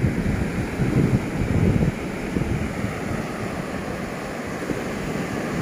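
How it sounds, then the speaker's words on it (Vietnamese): Rough sea waves wash over a rocky and sandy stretch of Lang Van beach in Da Nang, a continuous roar of surf with wind buffeting the microphone, louder in the first two seconds and then steady, with no voices. "Biển động nhưng mà sóng không quá lớn lắm."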